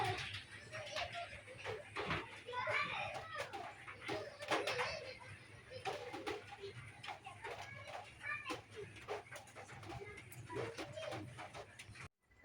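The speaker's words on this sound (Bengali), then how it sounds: "এই যে আপনার এক জোড়া লাল সাদা গোল্লা কবুতর বিক্রি করা হবে" A pair of red-and-white Golla pigeons, one male and one female, coo softly and repeatedly amid rustling and low background noise, with a bird call rising above now and then.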